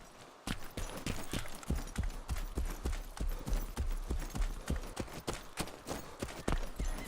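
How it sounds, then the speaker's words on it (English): Another player's footsteps in the video game DayZ, a long brisk series of regular thumping steps at moderate volume, continuing alone after a brief quiet start. "I could hear his footsteps when I was in there."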